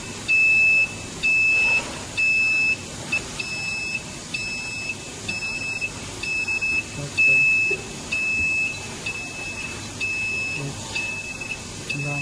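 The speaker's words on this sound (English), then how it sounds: "No water flow alarm." Repeated short electronic beeps in a steady rhythm from a ROC MCA 1200 free chlorine analyzer's no-water-flow alarm, each beep brief and high-pitched, over a low background hum with faint room noise.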